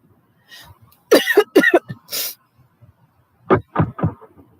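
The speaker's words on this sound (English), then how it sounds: "See if I can get this coughing to stop." A string of harsh, hacking coughs in two bursts, close to the mic, separated by a short quiet gap, with faint low murmuring at the edges.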